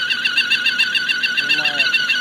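A high, steady whistle from the camshaft phasers of a Chevrolet Aveo T250 engine, a pulsing tonal whine close by that warbles rhythmically throughout with a faint underlying hum.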